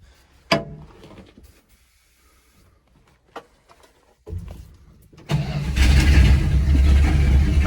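A 1974 Dodge Challenger with almost no fuel cranks with a few sharp clicks and brief starter bursts, then its engine catches into a loud, sustained rough idle.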